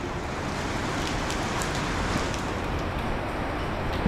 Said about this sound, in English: Suddenly it just started raining real hard today.